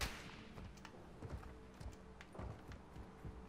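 Scattered gunfire in Call of Duty Warzone, with several sharp shots and bursts at irregular intervals over dense, noisy game ambience, fairly faint and distant-sounding.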